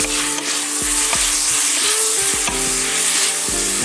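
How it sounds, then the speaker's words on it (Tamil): Onions sizzle loudly in a hot pan for chicken biryani, a dense steady frying hiss broken by repeated scrapes and knocks of a stirring spoon, with no voices. "வெங்காயம் நல்லா வதங்கணும்"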